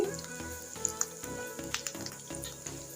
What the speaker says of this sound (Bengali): আমি কিছু কাঁচামরিচ কেটে নিয়েছি সেটাই দিয়ে দিচ্ছি